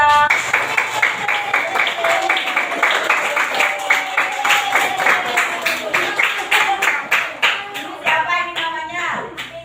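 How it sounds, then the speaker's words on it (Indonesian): A class of students claps hands together in a steady, even rhythm, many quick claps close by, with children's voices chanting along throughout. "kita tepuk tangan sama-sama"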